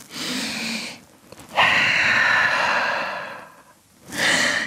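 Slow, deep breaths up close during a yoga downward-dog pose: a long airy inhale and exhale, then another breath starting, each clearly audible with quiet gaps between.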